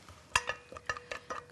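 Garlic stir-frying in sesame oil in a pan for tteokguk, heard as a quiet, close sequence of scraping utensil strokes against the pan with a faint sizzle underneath, a handful of irregular stirs.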